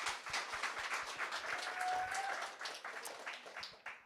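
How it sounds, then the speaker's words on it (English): Steady applause from an audience honoring team members celebrating five-plus years of service, many hands clapping continuously at moderate, fairly faint level with a slight cheer within. "Let's give them a round of applause."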